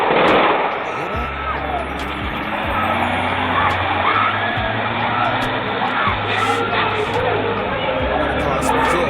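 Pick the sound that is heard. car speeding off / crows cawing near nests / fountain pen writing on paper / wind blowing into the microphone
car speeding off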